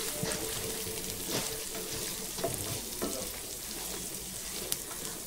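Tempering seeds (chana dal, urad dal, cumin and mustard seeds) sizzle and crackle in hot oil for an ivy gourd fry, a continuous close frying hiss with occasional pops and stirring, no speech.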